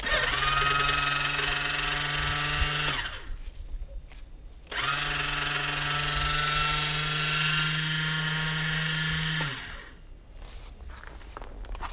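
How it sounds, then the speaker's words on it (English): A starter motor strains to crank an engine after the ignition is switched on, giving two long, loud, steady droning whirs with a labored hum, each about three to five seconds, separated by short pauses. "it seems like the starter is not capable to move the engine"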